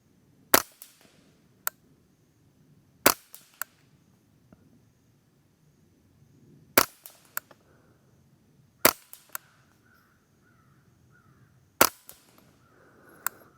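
Suppressed shots from an integrally suppressed Ruger 10/22 semi-automatic rimfire rifle, fired at targets 50 yards away: about five sharp, fairly loud cracks spaced several seconds apart, with faint impact ticks and quiet background in between.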